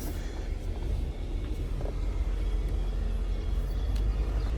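A car driving slowly through a parking lot with smooth gear shifts, a steady low engine rumble and cabin drone, close and constant throughout.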